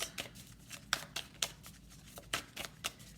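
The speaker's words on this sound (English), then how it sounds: "One more shuffle." Cards are shuffled close up in repeated quick riffles, a series of crisp bursts separated by short pauses in a quiet room.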